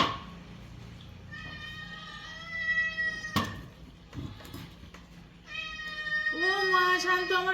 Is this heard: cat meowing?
yes